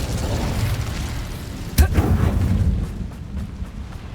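A fire spell cast in Hogwarts Legacy lands as a sharp, loud burst with a short rumbling boom, standing alone over a dense, steady game soundscape.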